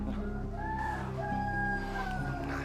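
A rooster crows in drawn-out tonal calls mixed with clucking, clear and fairly close against a steady low background hum, with no talk.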